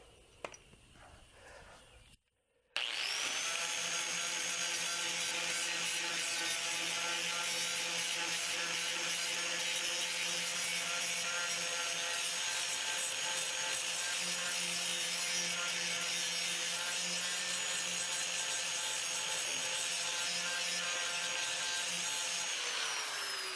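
A power grinder works steadily on rust spots on the body of a 1992 third-generation Camaro, starting abruptly after a brief pause and running loud and continuous with a harsh abrasive whine and no break to the end.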